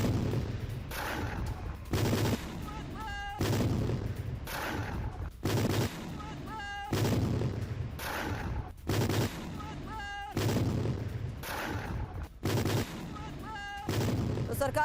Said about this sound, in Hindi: कई घंटों तक दोनों तरफ से फायरिंग होती रही